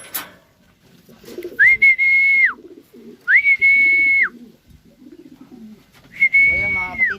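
Pigeons coo near the listener in three long, even, sustained calls, with a quieter low murmur of birds and someone talking in the gaps between them.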